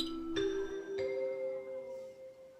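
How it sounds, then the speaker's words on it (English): A loud electronic chime rings out in a hospital corridor in an audio drama, two bright tonal strikes a moment apart that ring on and fade slowly. "Suddenly, there was a loud chime."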